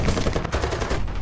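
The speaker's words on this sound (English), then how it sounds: "your 50 cals ain't doing squat for me" Rapid .50 caliber machine gun fire in War Thunder, a dense sustained burst of loud automatic shots rattling continuously for over a second with no talk.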